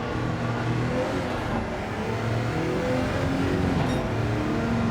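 Audi R18 TDI race car on the final lap at Spa in Gran Turismo 7, threading the S-bends: a steady, loud engine drone holding near-constant pitch throughout, with no talk over it.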